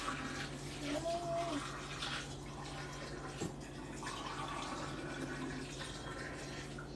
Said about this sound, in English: I need to dump them out and get them under cold water